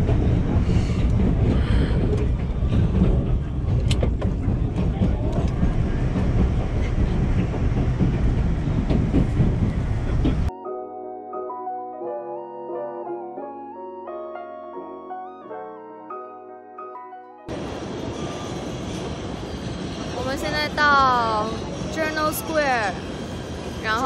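Trains rumble and clatter through a railway station where riders change for New York, a loud broadband roar that breaks off for a stretch of music before noisy station sound and voices return.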